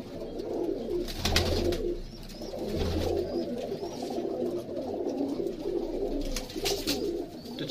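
Pigeons in a home breeding setup coo in soft, repeated throaty rolls, with a few faint chirps and sharp clatters scattered through, moderately close and without speech.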